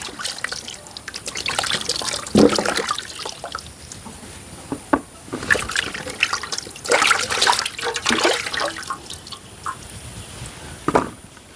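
Water splashing and trickling as peeled cassava is washed by hand in a village kitchen, with irregular sloshes, drips and pours close by and no talk.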